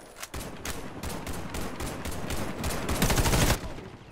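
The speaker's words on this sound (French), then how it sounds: "Ça fait trop de bruit quand je tire." Rapid automatic gunfire from the first-person shooter Warface rattles in loud, sustained bursts with a few brief breaks, close and heavy throughout.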